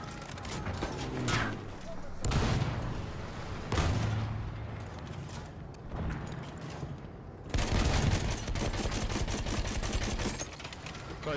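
Gunfire in the combat game Landship: bursts of rapid shots and heavier booms, some near and some distant, pile up among clanking movement, with players talking over much of it.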